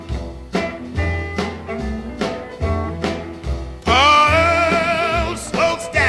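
Guitar playing a Chicago blues riff, a repeating pattern of plucked bass notes and higher strikes, with a louder, brighter strummed passage near the end, up close with no voices.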